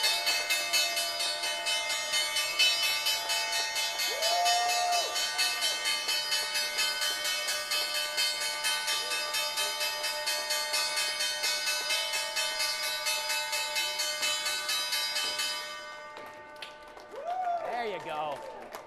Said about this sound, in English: time now for the closing bell rung by Tyler here at the New York Stock Exchange.